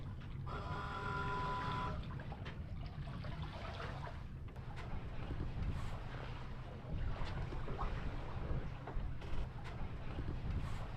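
A sailboat moves through light wind against a foul tide, a soft low wash of water and breeze with faint creaks and clicks, quiet and steady with no voices.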